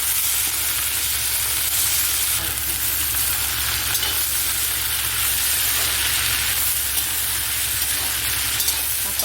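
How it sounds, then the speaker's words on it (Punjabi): Okra and onion sizzle and fry in a pan as cumin is stirred in, a steady, dense crackle that runs unbroken at close range with no talking. "ਜੀਰਾ ਪਾ ਕੇ ਆਪਾਂ ਚੰਗੀ ਤਰ੍ਹਾਂ ਮਿਲਾ ਲਈਏ"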